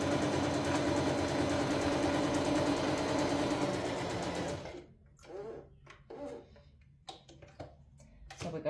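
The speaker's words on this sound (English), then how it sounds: "I'm just back stitching along there." A sewing machine runs steadily while back stitching a quarter-inch seam, a dense continuous whir that stops partway through and gives way to quiet handling noises and soft rustles.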